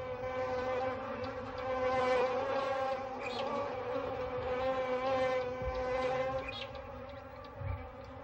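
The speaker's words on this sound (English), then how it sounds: "the bees go in search of new victims" A swarm of bees drones steadily around lions in the African wild, a close, continuous buzz that swells and fades slightly throughout, with no talking.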